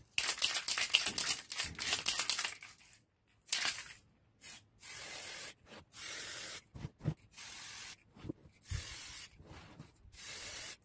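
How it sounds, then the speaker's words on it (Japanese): Aerosol spray paint applied as a second coat to a ZZR400 motorcycle ram air duct, loud close hissing in repeated short bursts of one to two seconds separated by brief pauses, with no voices. "10分ぐらい経ったんで、2度目の"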